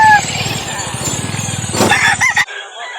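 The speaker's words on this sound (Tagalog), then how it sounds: "Ayan, daming dalang manok ni Kuya." Roosters and hens brought for sale at a fighting-cock market in Calauan cluck and crow loudly and close by, with a burst of crowing near the end and a brief low voice in the background.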